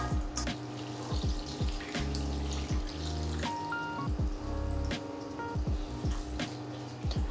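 Water is poured over cabbage in a container while making homemade kimchi, a steady, close sloshing pour with a few gurgling surges and no talking.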